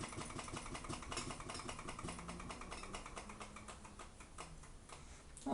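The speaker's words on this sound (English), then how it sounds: "A free-piston Ringbom Stirling engine." A small free-piston Ringbom Stirling engine runs steadily, giving a fast, even ticking and clicking rhythm at low volume, close by and with no voices.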